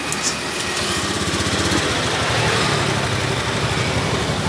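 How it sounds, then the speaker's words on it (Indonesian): A Honda Beat FI scooter engine idles steadily at about 1400 rpm with a fast, even putter and buzzy rattle, close and continuous with no voices. "ini udah hidup motornya."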